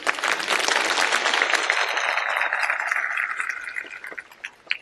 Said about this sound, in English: People have clapped on your question.